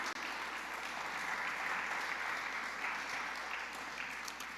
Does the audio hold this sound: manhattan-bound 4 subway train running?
no